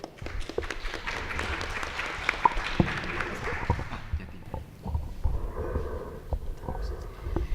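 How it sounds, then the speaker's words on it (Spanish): Applause from an audience at an academic forum on education in post-revolutionary Mexico, welcoming a speaker; scattered clapping fades after a few seconds into quieter room noise with a few isolated claps and taps. "Un aplauso, por favor."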